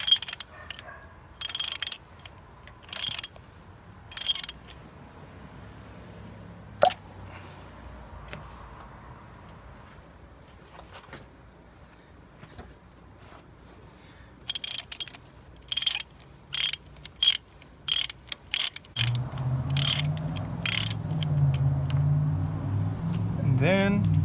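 A ratchet clicks in short bursts, loosening a spark plug on a 2008 Pontiac G6 with a 2.4 litre engine. Quiet gaps separate the bursts, a motor hum joins near the end, and speech is faint.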